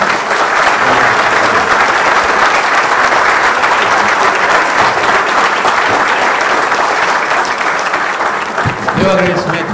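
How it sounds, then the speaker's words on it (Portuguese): Loud, sustained audience applause for the participants at a public event, dense clapping that holds steady for nearly ten seconds, with a faint voice emerging at the very end. "por favor, aplausos aos participantes"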